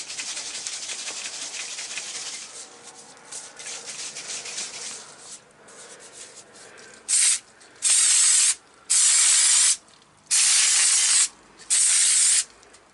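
Several short bursts of aerosol spray paint from a faulty can spitting bits rather than a proper spray, each a loud hiss lasting about a second with brief pauses between, following quieter rustling.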